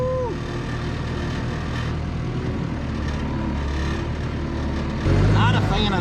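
A loader machine idles with a steady low mechanical drone and light rattle throughout, swelling louder near the end, with voices talking over it.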